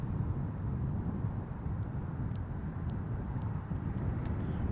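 A fixed-wing airplane at Christchurch airport gives a steady, broad engine roar at moderate distance that holds throughout without clear speech.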